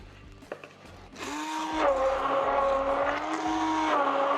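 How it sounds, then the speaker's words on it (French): A kitchen blender whirs up to speed after a brief pause, mixing a liquid thickened with sprinkled xanthan gum for molecular-cuisine olives; its motor drones loudly and steadily with a rising whine, nearby and alone. "Et là on mélange au mixeur."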